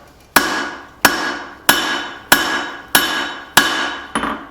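Hot steel hammered to taper a forged double-sided axe: six loud, ringing hammer blows at a steady, unhurried rhythm, each decaying before the next, close up with no talking, followed by a lighter final tap.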